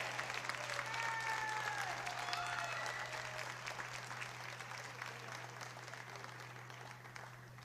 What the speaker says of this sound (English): let's have one more round of applause for both Olivia and Mackenzie